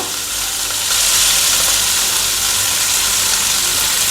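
Mustard seeds sizzling in hot oil for a tempering, a loud, close, continuous hiss that swells slightly after the first second and holds steady, with no talking.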